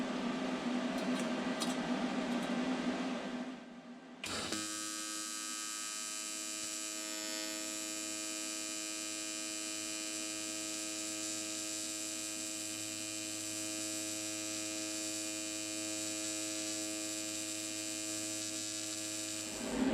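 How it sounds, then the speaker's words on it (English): A TIG welder works on a hand-made supercharger part, giving a steady electrical hum and buzz that holds evenly for many seconds after a short, rougher burst at the start. "It's hard to explain unless you've TIG welded, but I'm not flowing the puddle enough before dabbing."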